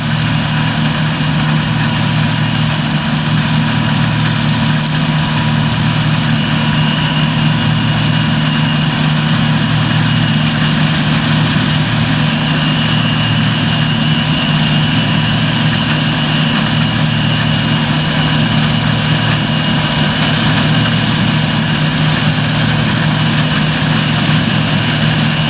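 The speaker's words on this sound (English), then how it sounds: "A 20-foot cut, and that's a 2264 John Deere combine" A John Deere 2264 combine harvester with a 20-foot cut runs at a farm, its engine producing a steady, loud, continuous low drone with no talking.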